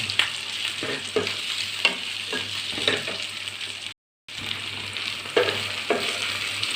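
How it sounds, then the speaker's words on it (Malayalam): Small pieces of capsicum sauté in a hot pan with steady sizzling. A spatula stirs and scrapes at irregular intervals, close and clear, with a brief silent gap midway. No talking. "ഒരു ചെറിയ ക്യാപ്സിക്കം രണ്ടൊന്ന് ചെറുതായിട്ട് വഴട്ടും"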